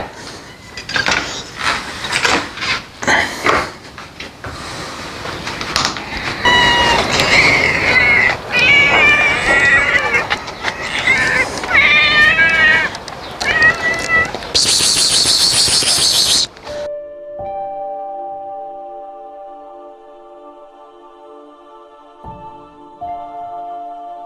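Several cats meow and yowl repeatedly at close range, with dish and pan clatter around them at feeding time, before the sound cuts off and faint tonal music takes over.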